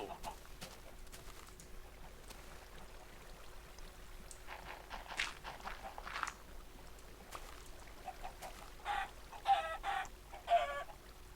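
Short, scattered clucks from a few chickens in Minecraft, with game-like sound effects, fairly quiet over a steady background hum, getting busier toward the end.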